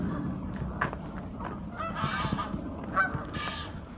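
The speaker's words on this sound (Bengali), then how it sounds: "এখানে কিন্তু কত হাঁস দেখছেন।" Geese honking by the River Thames at Windsor, with several loud nasal honks repeating over a steady outdoor background and no talking.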